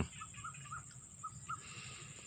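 Faint birds call outdoors over rice fields, a series of short chirps over a steady high insect-like drone, distant and soft.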